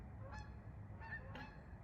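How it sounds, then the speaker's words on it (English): Geese honk a few times at a distance, faint brief calls over a steady low rumble of background noise. "Look at those birds. I love to watch them."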